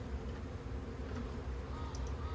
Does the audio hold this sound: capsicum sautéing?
no